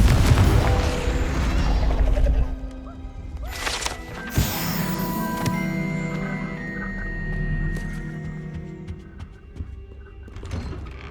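A Confringo spell in Hogwarts Legacy goes off with a heavy, booming blast and rumbling crash, followed by ringing magical tones and mechanical clanks as the sound settles.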